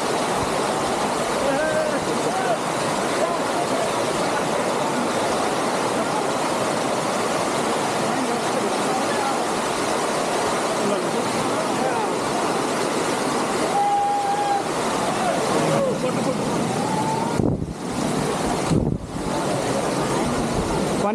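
Steady broadband rush of a waterfall at Gormaghat, loud and continuous close by, with brief dips near the end as the sound is muffled.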